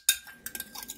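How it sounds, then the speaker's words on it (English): A spoon stirs a mixture for Turkish bread in a bowl, a sharp clink at the start followed by several light scraping and tapping strokes, close and fairly quiet. "now we're going to give this a stir"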